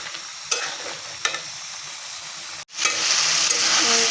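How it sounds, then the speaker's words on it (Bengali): Spice mix stirred into a frying curry, a soft sizzle with a couple of sharp spatula knocks, then a brief break before louder, brighter frying hiss resumes, close and without speech. "আমি মশলাটা তরকারির ভিতরে দিয়ে দেবো"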